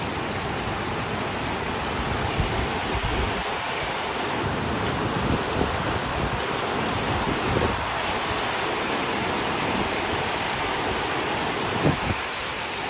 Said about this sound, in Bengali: বাহরাইনের ইতিহাসে এমন বৃষ্টি